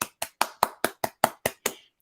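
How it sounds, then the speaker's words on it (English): Nine sharp, evenly spaced hand claps ring out close and alone, each a crisp smack with a short decay, the last one trailing off slightly. "That deserves a clap"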